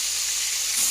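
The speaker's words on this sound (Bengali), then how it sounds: "কড়াইয়ের মধ্যে মা তেল দিয়ে দিয়েছে, ওই তেলের মধ্যে এখন যাচ্ছে চিকেন" Chicken leg pieces drop into hot oil in a wok and set off a steady, bright sizzle that crackles evenly and close up throughout, with no voices.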